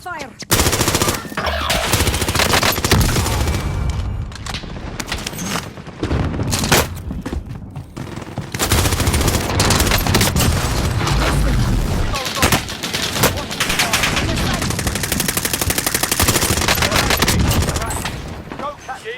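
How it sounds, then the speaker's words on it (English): Rapid automatic gunfire rattles almost nonstop during a Warzone match, with bursts of machine-gun fire, scattered shots and low booms, loud and close, broken by brief lulls, with occasional game voice callouts. "Receiving hostile fire."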